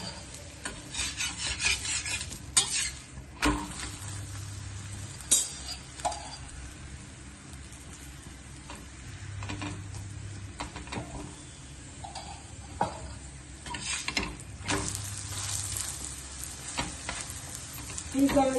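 Spinach and paneer paratha fries in ghee on a hot pan, giving a soft continuous sizzle with scraping and rubbing as it is pressed and turned, faint and close, with brief low hums recurring.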